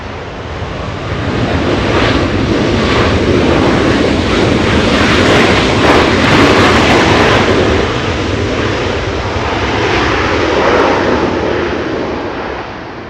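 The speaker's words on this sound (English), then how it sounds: "Good sound by the MAX 9." A United Airlines Boeing 737 MAX 9 airliner arriving at Los Angeles International Airport after a flight from Chicago, its engines producing a loud, steady, broadband roar that swells and lingers throughout, with a slight rise and fall as it passes.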